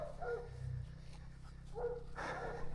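Dogs bark a few times in the distance, faint short yips over a low steady rumble outdoors near a damaged ATV.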